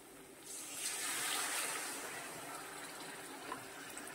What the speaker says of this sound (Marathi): हे उरलेलं सारण त्यात थोडंसं कोमट पाणी घालायचं आहे, थंड घालायचं नाही.